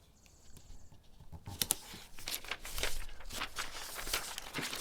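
Adhesive tape is torn off the roll to form a strip, giving a few short, crackly rips close by after a quiet start. No one speaks.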